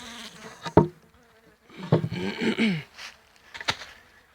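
Carniolan bees in a small winter hive colony, intermittent close buzzing and rustling with a few sharp knocks, gaps of quiet between bursts.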